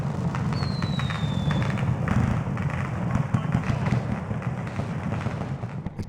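Fireworks going off in the streets of Beijing at New Year, a dense, steady crackle and thudding pops over a low rumble, with a faint whistle near the start and voices mixed in.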